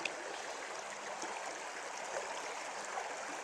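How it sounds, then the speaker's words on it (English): A small creek flows steadily, a soft continuous rush of water with faint trickling, no voices. "Kind of a cool little creek."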